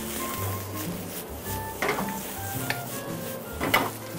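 Butter-coated fried rice with parsley sizzles in a pan, a steady frying hiss broken by a few sharp clinks and scrapes of a utensil stirring the rice.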